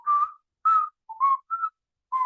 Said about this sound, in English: And it starts with whistling.